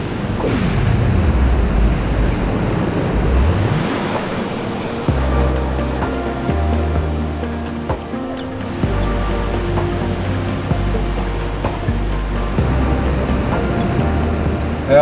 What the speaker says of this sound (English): About to drop into yet another river crossing.